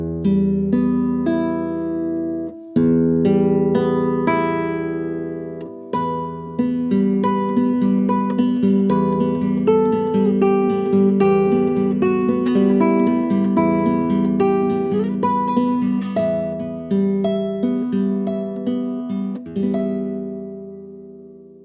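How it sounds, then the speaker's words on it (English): A nylon string acoustic guitar is played alone, close and clear, with plucked notes and chords ringing in a steady, gentle pattern that carries on for about twenty seconds. "a nylon string guitar sounds like this"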